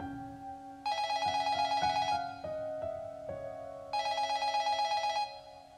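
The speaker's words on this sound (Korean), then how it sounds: "3층 카운터에서 전화벨 소리가 났다는 겁니다" A telephone rings at a third-floor counter in two long electronic bursts separated by a pause, clear and fairly close, with no voices.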